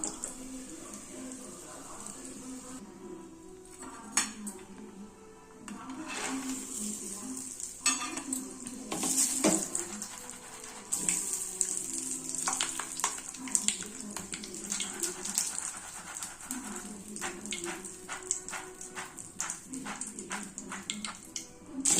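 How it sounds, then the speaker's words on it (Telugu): Roasted gram (putnalu) tossed and stirred in a hot pan while roasting until reddish for a homemade cornflakes chuduva mix, with dry rattling, scraping strokes and a faint sizzle running steadily for about twenty seconds, close up. "పుట్నాలు కూడా ఎర్రగా వేయించుకోవాలి"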